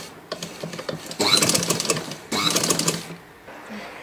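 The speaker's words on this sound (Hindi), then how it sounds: "इस तरीके से हम इसके सेंटर में सिलाई लगाएंगे।" A sewing machine stitching piping onto a kurti neckline runs in two rapid, buzzing bursts of stitching separated by a short pause, close and clear, with faint quieter moments before and after.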